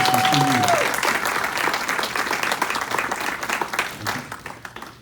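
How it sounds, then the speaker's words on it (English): Audience applause at a township annual meeting, a dense, steady patter of many hands clapping close by that fades gradually toward the end, with no talk over it. "they deserve a round of applause"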